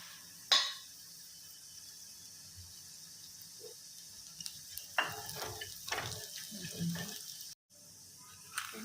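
Coriander seeds and cumin hit hot oil in a pan for a potato fry, sizzling faintly with sporadic crackles and clinks of seeds being added, fairly quiet and intermittent.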